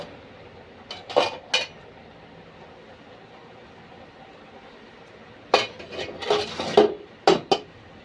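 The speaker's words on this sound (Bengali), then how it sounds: "ঢাকনাটা তুলে নেব" A metal lid comes off a pot of yardlong beans boiling in salted water on the stove, giving a few sharp clanks and clinks in two separate clusters over a quiet kitchen background.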